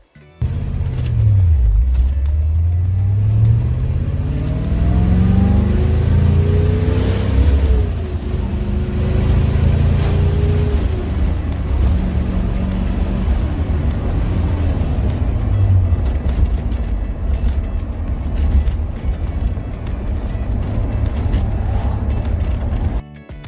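A vintage Corvette engine drones loudly and steadily from inside the car while driving, its pitch rising through the gears with several upshifts early on, then settling into a continuous rumbling cruise.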